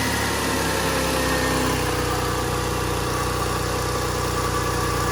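A project car's engine running at a steady idle just after a new alternator was fitted, a continuous loud low hum with a regular throb and no speech.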